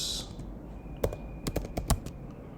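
Typing on a computer keyboard in short irregular clusters of crisp key clicks, close and clear, alone over a quiet room background.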